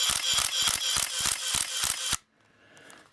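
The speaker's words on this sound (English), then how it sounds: "I'm in continuous mode, in high, so I should be getting 4 frames per second." A Nikon F36 film camera with its motor drive fires in continuous high mode, giving a rapid, evenly spaced run of about ten loud mechanical shutter-and-advance clacks that ends abruptly and leaves near silence.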